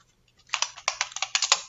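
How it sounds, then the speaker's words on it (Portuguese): Close, crisp keystrokes on a computer keyboard, a quick run of a dozen or so clicks ending in a firmer key press, with no talking. "eu dou um Enter"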